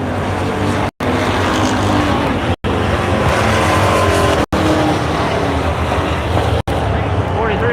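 Crate sprint cars battling wheel to wheel on the Buxton Speedway oval, loud continuous engine roar close by, broken by several brief abrupt dropouts, with a voice talking over it.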